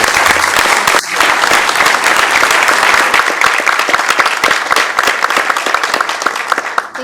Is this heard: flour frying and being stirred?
no